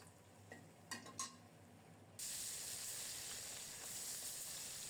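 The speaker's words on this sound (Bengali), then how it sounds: "মাছগুলো ভাজা হতে থাক।" Tengra fish frying in oil: after a few quiet utensil clinks, a loud, steady hissing sizzle starts abruptly and continues close up, no voices.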